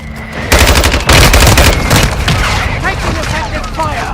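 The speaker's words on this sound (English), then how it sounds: "Mortar strike is down." Mortar strike explosions in the video game Warzone 2: loud booming blasts and dense rapid gunfire crackle continuously, with a heavy impact near the start and chattering bursts throughout.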